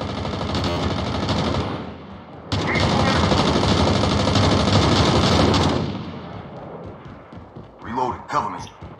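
Sustained automatic gunfire from a heavy gun in Call of Duty Mobile rattles loudly in long continuous bursts with a brief gap, then fades as a player's voice talks over the game.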